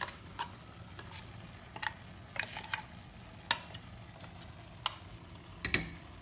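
Ground spice paste being stirred into a Kerala-style chickpea curry (kadala curry) in a pan: scattered soft scrapes and light clicks, fairly quiet, over a low steady background.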